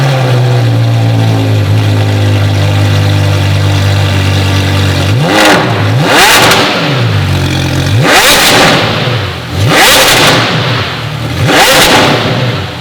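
Porsche Carrera GT V10 fitted with an Inconel F1 exhaust idles low, then snaps through several sharp, loud, high-pitched revs in quick succession, each climbing and falling, close by.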